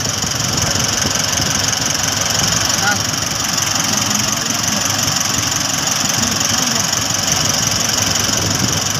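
A vehicle engine, just started, idles steadily with a constant close drone and a faint rhythmic knock, unchanged throughout.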